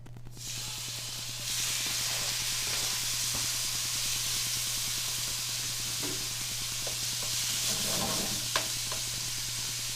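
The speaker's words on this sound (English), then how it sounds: "That's the sound of cooking right there." Steady sizzling of beef frying in olive oil in a hot pan, a continuous close hiss with occasional stirring clinks and scrapes.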